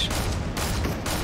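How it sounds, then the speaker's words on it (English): The thermal gun firing in Fortnite: dense, steady shooting that stays loud throughout, with a few sharper shots standing out. "I love the thermal gun so much."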